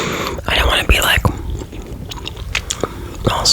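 Close, moist chewing of watermelon gum with sticky smacks and bites, heard between soft whispered talk and breathy mouth sounds.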